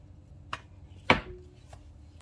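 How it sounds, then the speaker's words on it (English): Bananas being cut on a board for banana pudding, three separate knife taps, one sharp and louder in the middle, with quiet gaps between. "So you just cut the bananas and layer them all over your cookies like that."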